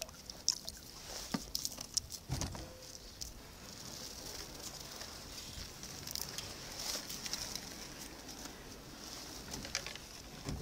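A kayak scrapes and bumps over the rocky, shallow bottom of Aberdeen Lake while paddling, giving faint, intermittent scrapes, knocks and soft water patter against a quiet outdoor background.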